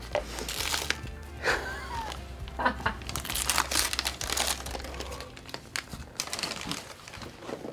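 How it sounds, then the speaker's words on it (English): Gift wrapping paper being unwrapped, with close, busy crinkling and tearing in irregular bursts over several seconds and quiet voices in the background. "I know this wrapping paper."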